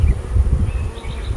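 Honey bees buzzing at an open beehive, a dense low hum that wavers steadily and fills the space nearby, with no voices over it.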